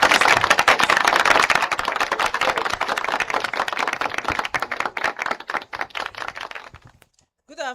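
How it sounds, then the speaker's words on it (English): Applause at a World Food Safety Day and MSMEs Day event, dense crisp clapping from a crowd that thins into scattered claps and stops, followed by a brief voice. "a round of applause for Mrs. Adewale Abiodun for the good message"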